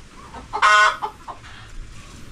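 A rooster, one of the birds kept on a small farm in Arayat, lets out a single loud crow lasting under a second over quiet outdoor background noise, with fainter bird calls trailing after.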